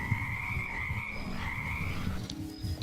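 Frogs in a video game croak in steady, layered calls over a continuous backdrop of game ambience, with no one talking.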